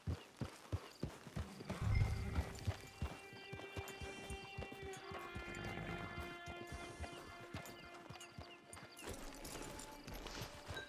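Steady clip-clop of horse hooves trotting close by in Red Dead Online, with a brief whinny and a sustained musical drone underneath.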